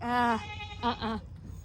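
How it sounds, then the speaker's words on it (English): Goats bleat close by, one long wavering cry followed by two shorter ones in quick succession, then fading into outdoor background noise. "We hear goats over here."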